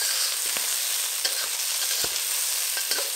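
Salt and pepper prawns fry loudly in a hot pan, a dense continuous sizzle close up, punctuated by several brief crackles and spits as they brown, with no voices.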